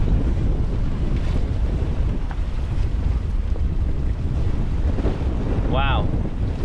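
Steady wind buffeting the microphone over low surf and water noise aboard a sailboat turning into the wind in shallow water about seven feet deep, a continuous loud rush with a brief bird-like chirp near the end.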